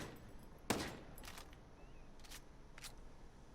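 DMR and assault rifle fire in the tactical shooter Ghost Recon Breakpoint, one sharp loud shot followed by several quieter, thinner shots spaced apart, fairly light and snappy.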